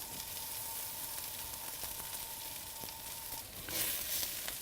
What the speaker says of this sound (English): You do need to let the food sit on the hot surface for the onions to caramelize.